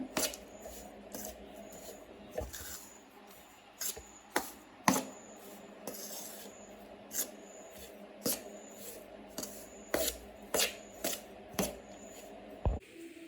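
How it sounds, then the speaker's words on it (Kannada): Raisins, almonds and cashews tossed and stirred together for an Ugadi bevu bella mix, giving a string of sharp, close clicks and taps at irregular intervals over a soft, quiet background, with no talking. "ಇವಾಗ ಇವನ್ನೆಲ್ಲ ಚೆನ್ನಾಗಿ ಮಿಕ್ಸ್ ಮಾಡ್ಕೊಳ್ಳೋಣ"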